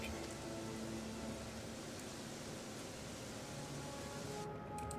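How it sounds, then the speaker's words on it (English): Rain in the video game Gothic 3 makes a faint, even, static-like hiss that continues unbroken, with no voices. "you only realize how annoying the rain sound was when it's gone"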